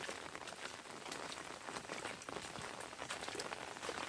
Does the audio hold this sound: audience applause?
no